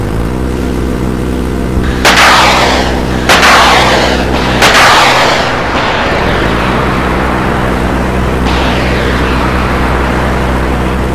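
A warship's close-in weapon system rotary cannon fires three loud, sharp bursts in quick succession, each ending in a roaring rumble, over a steady low drone.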